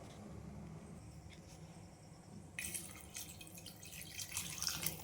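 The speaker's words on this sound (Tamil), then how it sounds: "இப்போது நம்ம சிக்கனுக்கு தண்ணி சேர்த்திக்கலாம்." Water is poured into a pot of browned chicken curry with brinjal and potato, a steady splashing rush that starts partway through and keeps going, close and fairly loud over a low kitchen hum, with no talking.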